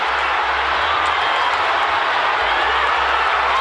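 Dense, continuous roar of a large soccer stadium crowd at a USA vs Haiti Gold Cup match, loud and steady throughout, with cheering and clapping blended into the wash.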